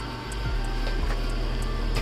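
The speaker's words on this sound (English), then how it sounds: "See, the vacuum can handle the cinnamon challenge." A Cool2Day 1600pa robot vacuum runs nearby with a steady electric whir, broken by a few short clicks and bumps as it moves across the floor, with no speech.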